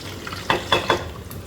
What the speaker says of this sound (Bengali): আমি ফার্স্ট একটু তেজপাতা দিয়ে দিচ্ছি, তারপর দিয়ে দিব রসুন।